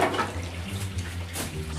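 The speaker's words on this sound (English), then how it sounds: "It's unblocking it into the bath." Water drains steadily into a bath as a blockage clears in a filthy hoarder's home, a continuous close rushing and gurgling flow with no talk.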